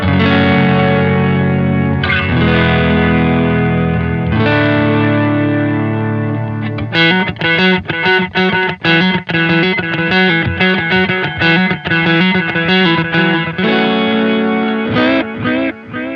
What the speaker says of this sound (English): Now let's move on to the tape delay.